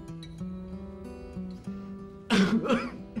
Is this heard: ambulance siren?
no